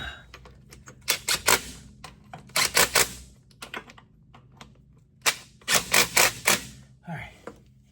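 An impact wrench running bolts on a Case 5220 Maxxum tractor during a kingpin install, heard as two close clusters of rapid hammering rattles, each lasting about a second, with quieter gaps between.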